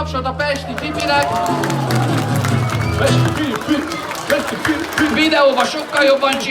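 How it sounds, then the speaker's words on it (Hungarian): Audience at a children's show in the Campona shopping centre bursts into sustained clapping and cheering, a dense crowd roar that swells mid-clip and then thins into scattered claps and chatter. "Nagy tapsot a Pesti Pipinek!"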